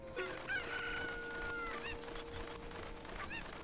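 Cucco chickens from the N64 game Zelda Ocarina of Time crowing and clucking, with bright, repeated calls layered over steady in-game music and effects throughout.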